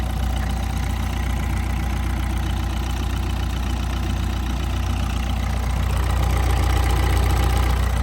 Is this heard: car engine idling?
yes